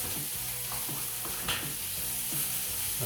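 A beef patty sizzles hard in a frying pan for a patty melt, a dense steady crackle up close with repeated scraping strokes of a spatula moving through the fat.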